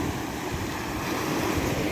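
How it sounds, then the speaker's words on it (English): Ocean waves surge onto a beach foreshore in a steady, broad wash of surf with some wind noise, continuous and fairly loud, no voices. "the waves tend to surge"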